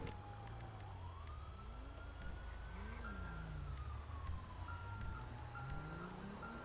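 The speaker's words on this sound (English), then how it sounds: "I hear a siren." A video game emergency siren wails, rising and falling steadily over a low rumbling background, fairly distant, with faint tapping clicks.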